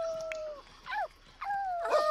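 Puppies in The Sims 4 whimper in short, high, wavering whines, several thin cries rising and falling, close and moderately soft over a quiet background.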